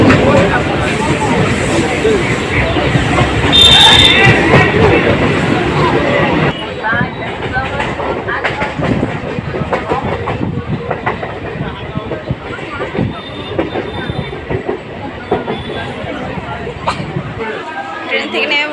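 A train rolls into Rishra station in West Bengal, its rumble and clatter loud and close, with a dense crowd babbling throughout; the noise drops partway through as the train slows.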